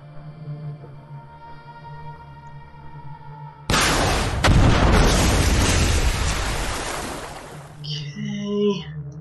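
A coastal battery blows up in the naval wargame Command: Modern Operations, a sudden loud, broad blast that rumbles and roars for several seconds after a low steady game hum, then fades into lighter crackling debris.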